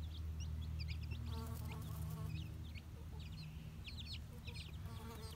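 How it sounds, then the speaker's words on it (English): Mother hen with her eleven chicks: soft repeated clucks over a low background hum, with bursts of high, thin chick peeps scattered throughout at close range. "Look at that proud mama with her 11 chicks."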